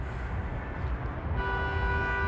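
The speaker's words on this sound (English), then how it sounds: "You can probably hear that honk right there for celebration" A celebratory car horn honks at an outdoor watch party for a game, a sustained tone entering partway through over a steady, noisy crowd background.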